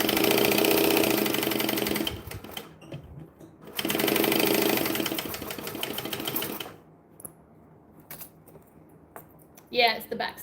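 A sewing machine back stitches a bag in two loud, rapid bursts of running, separated by pauses, followed by quieter handling noises and a brief clatter near the end; talk occurs intermittently.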